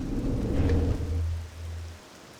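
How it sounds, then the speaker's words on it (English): Rain patters steadily in Morrowind while a low rumble of thunder rolls through the middle, the storm moderately loud with no voices over it. "Ooh, it's raining."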